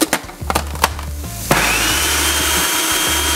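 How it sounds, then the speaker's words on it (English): After a few knocks and clunks, a blender kicks on and holds a loud, steady whirring roar as it purees a vegan mac and cheese sauce. "Now put the lid on and blend."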